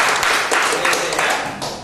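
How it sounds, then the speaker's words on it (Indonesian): Classroom students applaud their classmates after a group activity, a brief burst of dense clapping from many hands with some voices underneath. "Tepuk tangan buat teman-teman."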